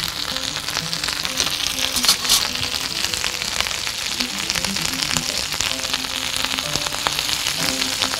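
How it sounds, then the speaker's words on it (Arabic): Hot dogs sizzling on a grill, a dense, steady crackle and spatter with brief pops, close and continuous without any talking. "الهوت دوج بتاعنا اهو على الشواية"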